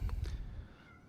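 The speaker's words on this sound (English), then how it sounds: "She's meowing back." A female cat meowing back in a room; two short, fairly close meows at the start, then fading to quiet, no talk over them.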